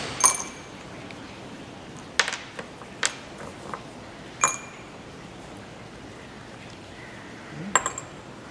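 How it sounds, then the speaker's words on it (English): Christmas-tree-shaped ice cubes are dropped one by one into glass beakers for a school science experiment, a handful of sharp, isolated clinks spaced a second or more apart over a quiet background. "So let's put an ice cube into each beaker."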